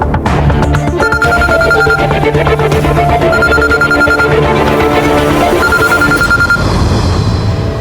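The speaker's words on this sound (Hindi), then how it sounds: "फोन बार बार बज रहा है" A telephone rings loudly and continuously, its electronic ringtone repeating in steady bursts with no talking.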